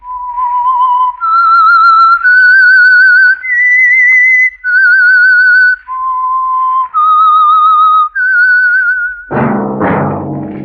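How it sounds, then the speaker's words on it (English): A human whistles the theme of the Signal Oil radio program The Whistler, a loud, clear, wavering melody of about a dozen sustained notes, ending with a short burst of orchestral sound. "That whistle is your signal for the Signal Oil program, The Whistler."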